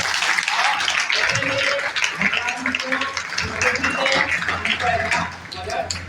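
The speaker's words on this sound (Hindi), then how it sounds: "तो इन सब के लिए एक बार पुनः ताली बजाइए" Audience at a school tribute ceremony claps in a dense, steady round of applause that lasts the whole stretch, with faint voices mixed in.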